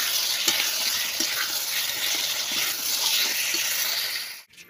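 Potato and pointed gourd curry with spices fries steadily in a pan, a continuous loud sizzle with occasional stirring scrapes, then cuts off abruptly near the end.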